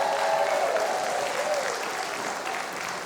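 A television studio audience gives a band a warm round of applause, full steady clapping that fades slightly toward the end, with a faint voice beneath.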